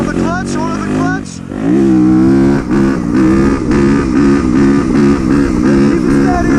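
A motorcycle engine revs hard during a wheelie, climbing and holding a loud, steady buzzing drone after a brief dip, with someone talking over it.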